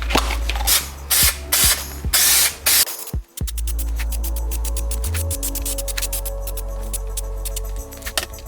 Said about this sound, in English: So this is the spray adhesive.